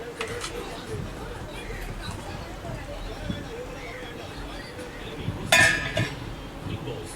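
A lid is set on a cooking pot of mushroom curry, giving one sharp metallic clink near the end, over a low kitchen murmur with a voice in the background.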